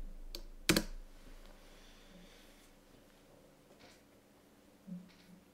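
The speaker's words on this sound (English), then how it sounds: "Type in your password." A password is typed on a computer keyboard, a few faint scattered key clicks with one louder tap near the start, in an otherwise quiet room.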